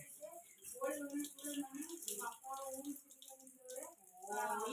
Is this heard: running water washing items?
yes